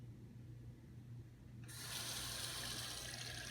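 Bissell ProHeat Revolution Pet Pro carpet cleaner parts rinsed under a running tap to wash off hair; quiet room tone gives way midway to a steady, loud gush of water from the faucet that continues to the end.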